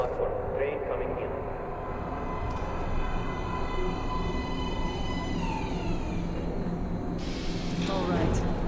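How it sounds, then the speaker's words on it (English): Metro subway train in the game Metro Last Light rolling into a platform, a steady low rumble with rising tonal whine and squealing brakes, fairly loud throughout, under a voice. "Please step away from the edge of the platform. Train coming in."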